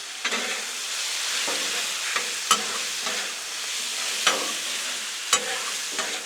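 Chicken frying in oil on a Blackstone griddle, a steady hissing sizzle with intermittent sharp scraping clicks of a spatula, close and moderately loud.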